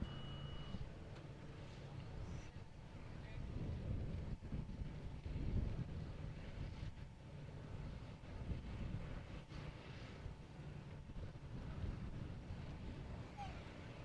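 Wind gusts across the open desert at Johnson Valley, California, during 2019 King of the Hammers UTV qualifying, a faint, steady low rumble of buffeting air that swells slightly midway and holds throughout.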